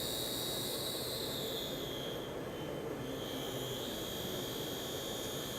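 A CNC machine in a laboratory runs an automatic program, giving a loud, steady, continuous machining roar with a high whine that holds throughout and dips slightly midway, with no talking.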